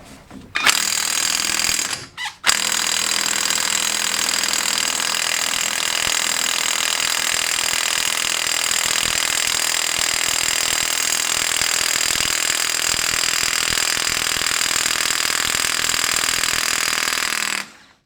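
Power tool on a 36 mm socket working the clutch cover nut of a Peugeot with a TU5JP4 engine, a loud, sustained whirring and rattling drive that pauses briefly early on, then runs steadily for the rest of the clip without talk.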